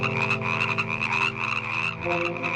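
A dense chorus of frogs and toads croaks nearby, many overlapping rattling calls pulsing rapidly and continuously, moderately loud, with no talking.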